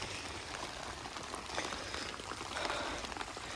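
Steady rain falling around a construction site, a dense continuous patter with scattered drops close by, and no voices.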